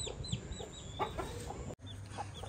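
An Aseel chicken gives a run of short, soft clucks close by, several scattered calls over a faint background rumble.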